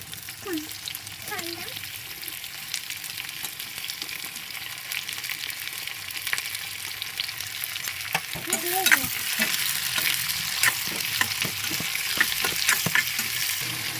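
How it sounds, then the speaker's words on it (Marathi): Ginger, garlic and onion sauté in an oil-filled pan for crab curry, giving a steady close sizzle and frying hiss throughout, with occasional spoon scrapes and stirring clinks. "आलं परतून घेऊया तर मंडळी आता आपण याच्यामध्ये कांदा मिक्स करणार आहोत"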